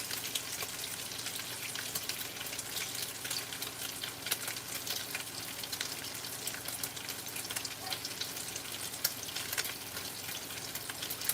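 Bacon frying in a pan for a bacon ziti goulash, a steady dense crackle and hiss of fat sizzling close up, continuous with no pauses and no voices.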